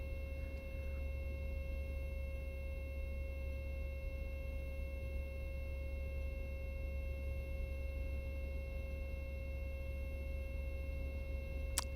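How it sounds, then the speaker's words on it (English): Steady electronic gear warning horn from an A2A Piper Comanche in Microsoft Flight Simulator, a continuous tone held through the whole stretch over low engine drone, with no talking. "That annoying beeping noise you can hear, by the way, is the gear warning horn"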